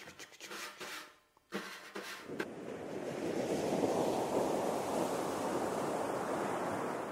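Soft rushing swells like ocean surf, made by drum brushes; a few scraping taps at first, then a steady broad wash rising and holding.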